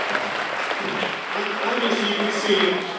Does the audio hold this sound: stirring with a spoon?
no